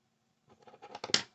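Scissors snip crochet yarn close by in a quick run of small crisp cuts and scrapes, building to a sharper final snip after a brief silence.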